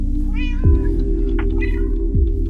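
Cat meowing in the Minecraft video game, two clear, loud meows about a second and a half apart over a steady background hum, no voices.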